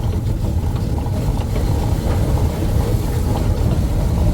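An electric motorcycle riding along a freshly poured rough dirt road, giving a steady low rumble and rattle of wheels over the ground that stays constant and fairly loud throughout.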